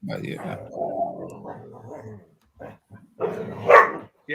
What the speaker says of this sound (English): Come get the dogs.